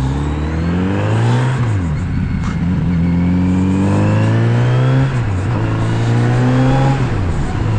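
A Kawasaki Z900RS motorcycle engine revs loudly and continuously on a test ride, its pitch climbing through repeated rising sweeps with brief drops between gear changes, close and steady throughout.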